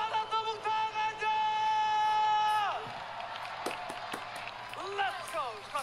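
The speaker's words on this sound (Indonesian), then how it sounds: "Champion Playoff, mana tepuk tangannya?" A crowd at an esports playoff match cheers and claps after a sustained synth tone ends. The noise swells into a loose, mid-distance roar of applause and whoops that runs on while a caster talks over it.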